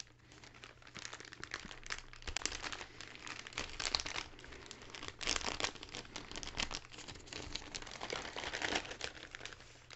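Crinkly plastic packaging around white mesh gloves is handled and opened close up, with steady soft crinkling and rustling bursts throughout, quiet and without talk.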